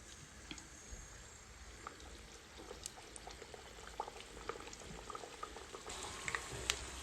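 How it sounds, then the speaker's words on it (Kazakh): Chebureki, Kazakh-style fried meat pastries, sizzle in boiling oil with a steady soft bubbling and crackle, scattered small pops rising near the end, no voices. "Енді қайнап тұрған майға жаңағы дайындаған чебуректерімізді"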